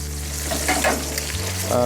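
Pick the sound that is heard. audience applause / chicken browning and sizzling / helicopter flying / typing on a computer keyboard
chicken browning and sizzling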